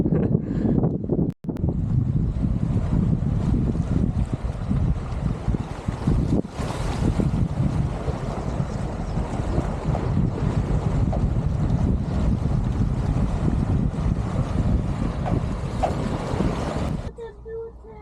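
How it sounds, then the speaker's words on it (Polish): Waves on Lake Garda at a campsite, a steady washing surge close by, mixed with heavy wind buffeting the microphone, with faint voices now and then. "fale jak nad morzem"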